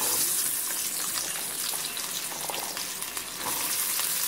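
Whole small onions frying in oil for a homemade chicken curry, a steady loud crackling sizzle with faint stirring movements throughout, no speech.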